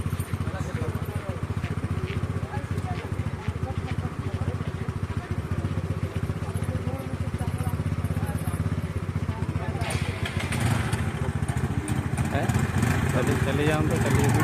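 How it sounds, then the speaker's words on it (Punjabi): A motorcycle engine runs steadily through flood water in Barian Kalan, giving a continuous rough drone with clattering and splashing that grows busier toward the end, while people talk over it. "ਮੋਟਰਸਾਈਕਲ ਤੇ ਨਿਕਲ ਜਾਣਾ ਮੋਟਰਸਾਈਕਲ ਨਿਕਲ ਜਾਣਾ"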